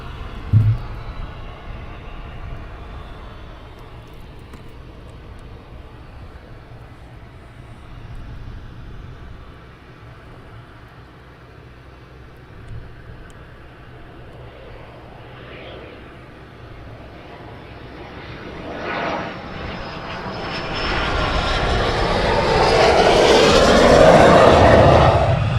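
A BAE Hawk jet comes in to land at RAF Valley, heard as a steady distant engine rumble that swells into a loud, broadband roar as it draws close near the end.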